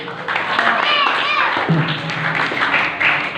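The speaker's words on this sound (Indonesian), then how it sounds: "Tepuk tangan untuk Kang Masom ya" An audience at a santri seminar claps for Kang Masom, a steady patter of hands under a speaking voice throughout.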